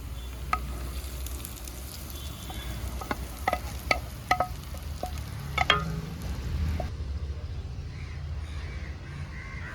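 Onions fried in ghee are poured into jeera kanji and stirred, giving a sizzling hiss with sharp clinks and scrapes of the spoon up close, and quieter steady sizzling afterwards.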